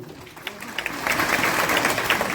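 An audience at a Gujarati Ramamandal folk performance in Surat bursts into applause, claps building from scattered hits into a dense, steady ovation over a couple of seconds.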